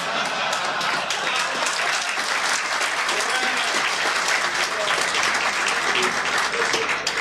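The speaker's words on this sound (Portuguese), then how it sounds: "mas palmas merecidas" Steady, full crowd applause fills the whole stretch at a government signing ceremony on the sale of drug traffickers' seized assets, loud and even throughout with no break.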